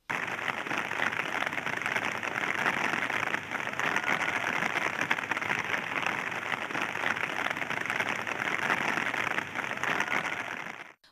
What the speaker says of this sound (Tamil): கும்பகோணம் பகுதிகளில் அதிகாலை முதலே பல்வேறு பகுதிகளிலும் விட்டுவிட்டு சாரல் மழை பெய்து வருவதால் குளிர்ச்சியான சூழல் நிலவுகிறது